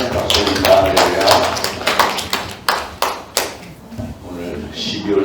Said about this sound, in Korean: 우리 하나님께 감사의 박수 올립니다.